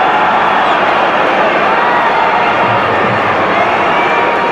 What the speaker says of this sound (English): The Arsenal crowd want more goal.